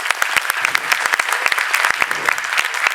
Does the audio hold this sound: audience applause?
yes